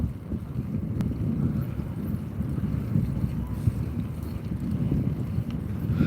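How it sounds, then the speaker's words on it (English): Breeze blowing outdoors in Las Vegas, a steady low rumble of wind buffeting the microphone with gentle gusts throughout, no voices. "It's a little breezy, but not overwhelming"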